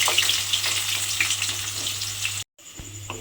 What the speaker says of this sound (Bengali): সেই পেঁয়াজটা আমি তেলের মধ্যে দিয়ে দিলাম। পেঁয়াজটা তেলের মধ্যে দিয়ে পেঁয়াজটাকে একটু ভেজে নিতে হবে।